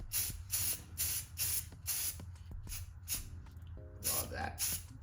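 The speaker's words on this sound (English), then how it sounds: "Do a little test spray" Aerosol spray can giving several short test bursts of hissing spray in quick succession, close up, with a pause and then two more bursts, during a dish-soap drizzle tumbler coating job.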